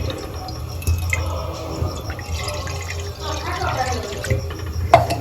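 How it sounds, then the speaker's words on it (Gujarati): Water splashes and trickles into a kadai set on a lit gas stove to make sugar syrup for Gujarati mandvi pak sweets, a steady pour running under a voice talking. "અમે નાખી દી પાણી ચાહણી માટે"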